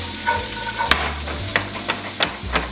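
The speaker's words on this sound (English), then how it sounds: "chopped with red peppers, green peppers, and green onions. Saute that in there like that." Red peppers, green peppers and green onions sauté in a hot pan for a spicy bolognese rigatoni, giving a close, steady sizzle broken by several scraping stirs, with no talking.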